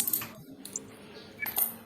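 Coins dropped one at a time during a sixth-grade remote arithmetic lesson, giving a few light metallic clinks spread across a quiet moment, the sharpest near the middle and end.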